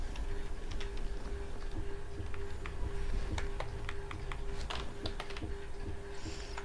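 Commands are typed on a computer keyboard while configuring NTP in Cisco Packet Tracer, giving scattered close key clicks at an uneven pace over a steady background hum.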